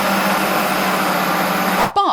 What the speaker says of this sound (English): There's been a lot of talk about how noisy the Ninja Creami is.